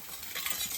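A pan of Kerala fish head curry (thalacurry) with chillies being stirred and sautéed, giving a brief, close scraping stir over a soft sizzle.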